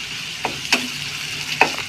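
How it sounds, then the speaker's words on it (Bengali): Chopped onion frying with black cumin (kalonji) and lentils in hot oil, browning for a carp fish bhuna: a steady close sizzle with three sharp spatula scrapes against the pan, no voices. "পেঁয়াজটাকে আমি ব্রাউন কালার করে ভেজে নিব।"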